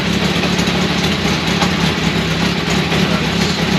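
A Kawasaki GPZ550 motorcycle engine idles steadily on a cold start with no choke, a loud, close, continuous rumble with a slight uneven pulse.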